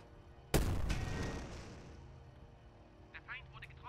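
A tank gun fires at an enemy turret in a WW2 tactical strategy game, one sharp loud boom that rolls off into a long fading rumble, with faint chirpy game effects near the end.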